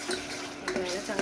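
Onion and coconut paste sautés in a pan while a utensil stirs and clinks against the metal over a soft frying hiss, brief and close.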